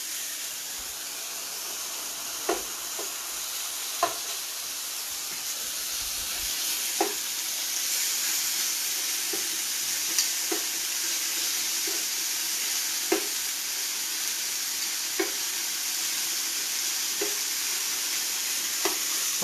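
Chicken pieces for a blue chicken pizza fry in a pan with a steady, close sizzle, while scattered sharp clicks of stirring and scraping come through the hiss at irregular moments.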